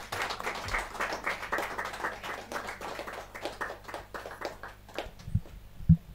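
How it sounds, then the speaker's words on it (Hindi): An audience applauding at a Hindi poetry gathering, a kavi sammelan: fairly soft, steady clapping from many hands, slightly distant, fading toward the end with a couple of louder thumps. "जोरदार तालियों के साथ।"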